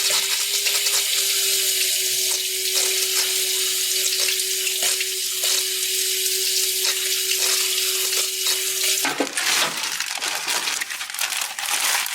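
Water rushes and splashes steadily through the engine of an abandoned 1962 AMC Rambler as it is flushed, a continuous hiss with a faint whistling tone, ending in a burst of louder spattering.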